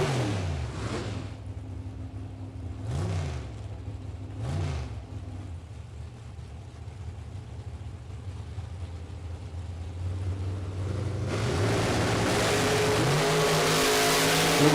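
Drag racing cars, a Chevy II and an Oldsmobile 442, rev at the line in sharp bursts, then both launch into a loud sustained engine roar that grows louder toward the end.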